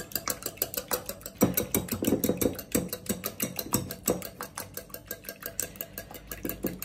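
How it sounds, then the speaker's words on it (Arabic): Four eggs being mixed vigorously, giving a quick, rhythmic clicking and tapping of strokes, close and fairly quiet, with no talk. "هما 4 البيضات ديالنا غادي نخلطوهم مزيان مزيان"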